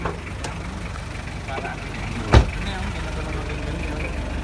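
Van engine idling, a steady low rumble running throughout, with a sharp thump midway and people talking nearby.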